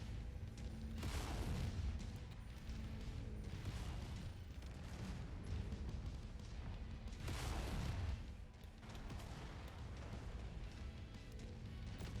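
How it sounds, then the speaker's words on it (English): Heavy booming blasts and rumbling fire from a mech's ammunition exploding in the MechWarrior 5 video game, a dense, loud, continuous barrage with two bigger surges, no talking. "Ammo explosion detected."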